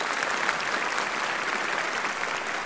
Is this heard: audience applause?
yes